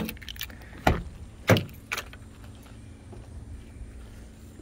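Key turning in the driver's door lock of a 1995 Cadillac Fleetwood Brougham, locking then unlocking it. A few sharp, close mechanical clicks and clunks come spaced about a second apart over a quiet background.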